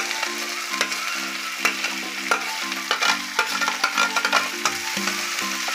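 Okra and onion frying together in a pan, a continuous sizzle broken by repeated clattering stirs and scrapes of a utensil, close and fairly loud.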